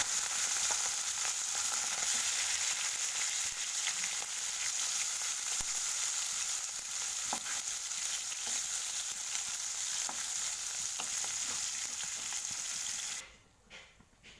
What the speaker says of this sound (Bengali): দেখো, পুঁটি মাছগুলোকে আগে ভেজে নেব আমি।